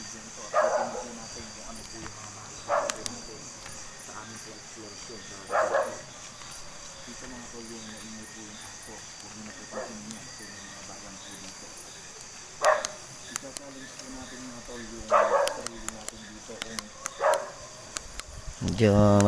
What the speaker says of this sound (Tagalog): Kaya pasensya na kayo kung medyo maingay yung aso.